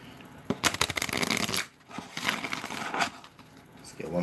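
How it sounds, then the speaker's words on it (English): Tarot cards being shuffled close up, with rapid riffling and slapping bursts and a short pause between rounds. "Let's get one more shuffle."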